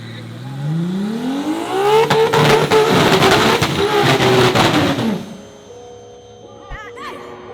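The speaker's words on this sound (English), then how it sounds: "Do a halfway John 4 style burnout, and car just sounded wild." A 1500+ horsepower BMW M4 with nitrous does a burnout at a drag strip, engine climbing in pitch then roaring hard against the limiter with crackling tire spin, loud and close, before dropping back to a rumbling idle.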